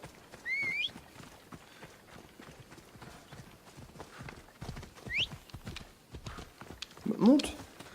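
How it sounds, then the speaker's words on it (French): Horse hooves in Assassin's Creed Odyssey, a steady clip-clop of galloping footfalls running quietly under game effects, with a brief whinny-like cry near the end and a few short chirping sounds. "Peut-être que mon cheval pourrait m'aider là sur le coup."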